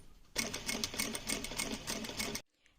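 A sewing machine topstitching a dress runs in one fast, even burst for about two seconds, close and loud, then stops abruptly.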